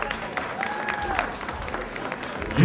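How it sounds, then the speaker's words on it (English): Applause from a concert audience at a tribute show, steady clapping throughout with a brief whistle-like tone, growing slightly louder at the end. "give yourself a nice round of applause."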